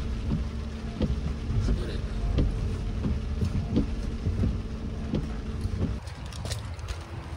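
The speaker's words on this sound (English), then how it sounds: "It's raining like a bug out here." Steady, dense rain pours outdoors with a broad rushing hiss and some wind buffeting the microphone, continuous throughout.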